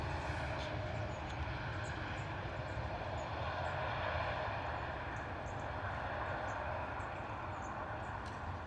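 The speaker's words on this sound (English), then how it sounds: "Not much noise from the reverse thrust on that Ryanair though, coming in to London Stansted this morning." A Ryanair airliner lands at London Stansted with reverse thrust, a steady distant low roar and rumble of jet engines that holds evenly throughout, with no talk over it.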